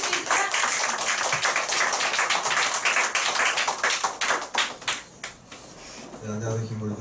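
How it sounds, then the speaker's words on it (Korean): An audience at a business training seminar applauds loudly, a dense burst of clapping that thins out and fades near the end before a voice begins speaking. "큰 박수 부탁드립니다."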